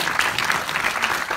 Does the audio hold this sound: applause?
yes